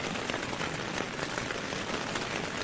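Rain drums steadily on a bivvy bag at night during a wild-camping trek, a dense, even patter that stays close and constant with no voices.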